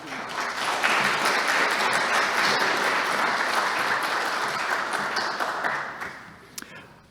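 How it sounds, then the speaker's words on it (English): Applause from an audience at an online rail summit meeting swells into dense, steady clapping that lasts several seconds before thinning out and fading near the end. "Let's give a round of applause for Grace."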